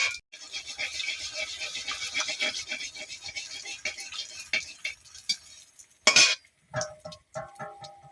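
Oil being stirred in a pan as fuchka puris fry and puff, a steady hissing sizzle with scraping strokes and a few sharper clinks near the end, no voices.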